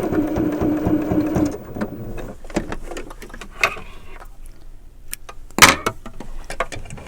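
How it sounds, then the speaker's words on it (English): A sewing machine back stitches quilt binding in a brief rhythmic burst of needle thumps, followed by scattered clunks and handling noises as the fabric is moved. "When I get to that point, I'm going to back stitch."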